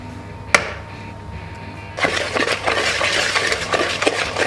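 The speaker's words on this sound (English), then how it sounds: "So I'm just gonna whisk this in." An egg being whisked into brandy tart batter in a bowl: a sharp clink, then a busy run of rapid scraping and clattering strokes, fairly close and with no talk.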